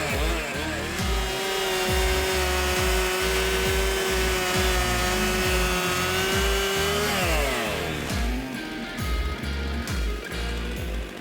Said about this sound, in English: it's now my turn to try my hand at sawing